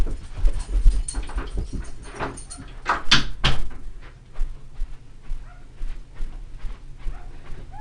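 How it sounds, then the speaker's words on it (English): A dog in a room whimpers and yips in short bursts, with a door or cupboard thudding and shuffling movement close by. "Let me get the dog out of here."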